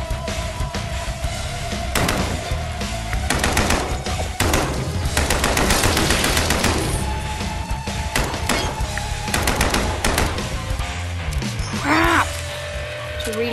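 Video game gunfire in a spider-killing game, loud rapid bursts and single shots over a dense, busy mix of game effects and music.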